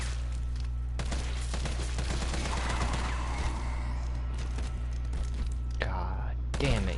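Gunfire in a video game played in Inferno mode, a rapid run of sharp shots in bursts across the clip, with a voice speaking softly over it.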